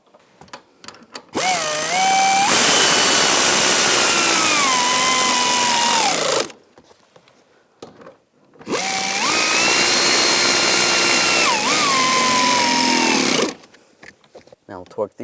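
A power tool whirs in two long bursts, driving the seat bolts on a 2010-2017 Chevrolet Equinox, each run a steady loud whine separated by a short quiet gap.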